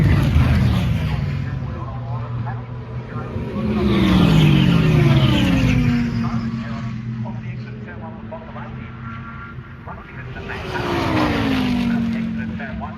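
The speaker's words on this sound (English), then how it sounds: "so there's the Porsche, there's the Aston Martin, Declan Fraser behind the" Race cars, including a Porsche and an Aston Martin, pass at Phillip Island Grand Prix Circuit. Engines rise and fall in loud, rising drones through the gears as two waves of cars go by, with commentary over them.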